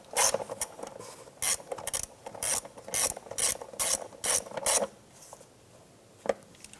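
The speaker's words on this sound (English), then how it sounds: "let's go ahead and snug those down" A hand ratchet snugs down fuel injector bolts on a 2007-2012 Nissan Versa: about a dozen short, close bursts of quick clicking in a steady rhythm, then quiet with one lone click near the end.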